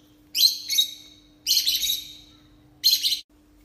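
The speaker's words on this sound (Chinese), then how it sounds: "这八哥" A myna bird gives close, bright chirps in three quick bursts separated by short pauses, over a faint steady hum in an otherwise quiet room.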